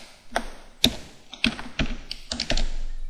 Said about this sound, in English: I'm going to type Allegro